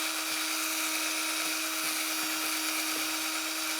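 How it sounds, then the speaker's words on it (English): A wire brush scrubs inside the brake caliper pin bore of a 2005-2010 Chrysler 300 during a rear brake job. A steady high-pitched whine runs throughout with faint repeated scraping strokes, close and continuous. "You're going to use like a wire brush of some sort and get in there and"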